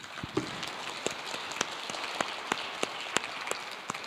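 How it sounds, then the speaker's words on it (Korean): At a church session meeting, a congregation claps in a thin, scattered way, with individual sharp claps standing out irregularly over a soft background patter. "우리 교육부 위해서 한 박수 한번 쳐주세요."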